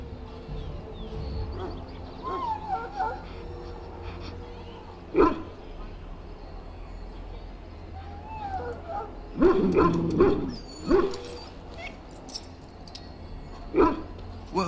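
A dog in the Dragon Age: Origins video game gives a few short yips and barks near the middle and end, with a whimpering tone, over low ambient game sound and occasional voices.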